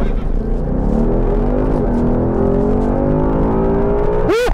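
A 2018 Ford Mustang GT Convertible's engine revs hard and accelerates in sport plus mode, its pitch climbing steadily over several seconds, loud and close, ending in a sharp upward whine.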